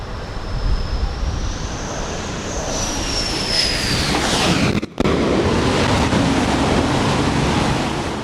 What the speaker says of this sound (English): These FA-18 Super Hornets go from 150 miles per hour to 0 in just 2 seconds.